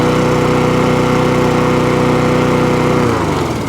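Husqvarna R152SVH ride-on mower with a Honda engine runs loud and steady close by at a constant idle, then the engine note shifts and drops slightly near the end.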